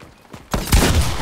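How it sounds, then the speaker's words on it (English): Grenade blasts in Fortnite, a quiet stretch of faint thuds giving way to a sudden loud, rumbling burst that booms and crackles close up and keeps roaring to the end. "Throwing grenades."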